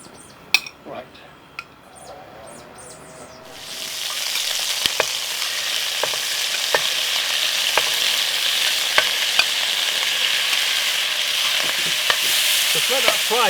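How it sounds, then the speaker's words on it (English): Beef coated in Panang curry paste hits a hot pan and erupts into a loud, steady sizzle after a quiet start, with spoon clinks and stirring knocks recurring throughout. "Just let that fry off on all sides."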